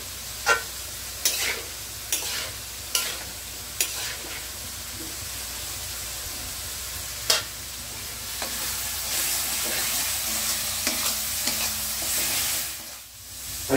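A spoon stirs a salted fish curry frying in a pan: a steady sizzle and hiss runs throughout, broken by a series of sharp scraping clacks from the spoon at uneven intervals, with no talk.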